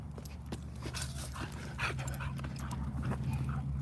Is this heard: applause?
no